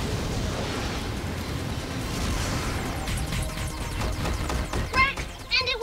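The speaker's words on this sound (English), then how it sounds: "Fire breath!" A fiery roaring whoosh from a dinosaur's fire breath attack in a kids' cartoon battle, a sustained loud rush with crackling bursts and popping effects building toward the end.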